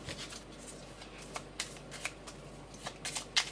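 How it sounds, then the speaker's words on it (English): Tarot and oracle cards are shuffled by hand in a soft, steady riffling patter, close and quiet, with a few sharper snaps as the deck is squared. "just shuffling those back in there because we do use these cards for clarifying later"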